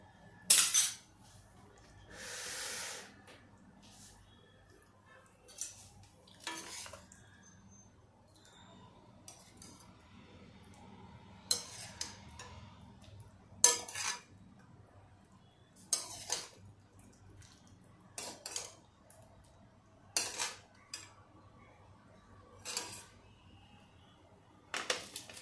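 Utensils clink and tap against plates and dishes while a homemade village-style star-shaped dumpling soup with flatbread is plated, giving sparse, separated clicks and scrapes over a quiet background with no talk.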